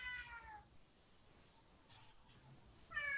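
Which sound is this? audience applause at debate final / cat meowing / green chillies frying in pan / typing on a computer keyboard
cat meowing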